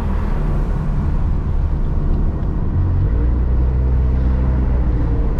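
A car cruises along a road through Azusa Canyons in California, a loud, steady engine and road rumble from inside the cabin with no gear changes or breaks.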